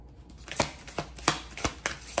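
Tarot cards riffled and shuffled by hand in a quiet room, a string of crisp, close flutters and snaps coming in uneven bursts, with no talking.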